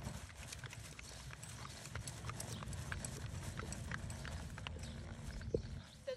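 Horse hooves clip-clopping in a steady rhythmic beat during dressage-style ranch riding, moderately close, with faint background noise.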